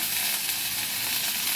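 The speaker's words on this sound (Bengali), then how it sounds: "এবার পেঁয়াজটা তাড়াতাড়ি ভাজা হওয়ার জন্য দেবো একটু" Onions sizzle loudly and evenly in a hot pan while ghugni is being cooked, a steady frying hiss with no voices over it.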